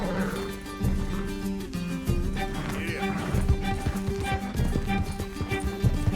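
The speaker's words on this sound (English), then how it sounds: "Can't this horse go any faster?" Horse hooves pound in a fast, steady gallop during a chase in Red Dead Redemption 2, mixed with game music and action noise.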